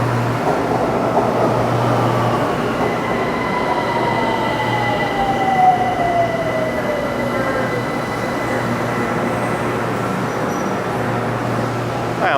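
A Bangkok SkyTrain elevated metro train rolls into a station with a steady rumble and a long descending whine as it slows, wheels faintly squealing over continuous mechanical hum.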